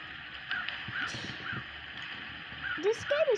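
A crow caws a few times in the Roblox game Brookhaven RP, some calls clear and others farther off, over a quiet game-like ambience with faint talking.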